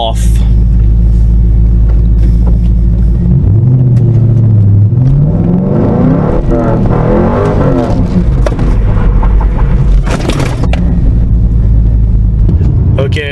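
A Jaguar S-Type R with traction control off accelerates hard through a turn, its engine rumbling loud and close as revs climb steadily, with a brief whine rising partway through.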